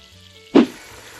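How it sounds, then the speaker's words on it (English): Lamb hits hot olive oil in a pan with a sudden close, loud burst of sizzling that quickly settles into a faint steady crackle. "I seared the lamb until it was lightly brown. Ooh, that sizzle."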